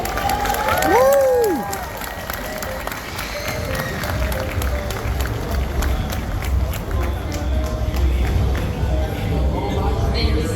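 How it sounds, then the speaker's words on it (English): A crowd at the Pokemon World Championships in Honolulu cheers and applauds in a large hall, a steady roar of clapping and whoops that starts loud and then settles into a sustained murmur, with voices mixed in. "let's cheer them on and show our support"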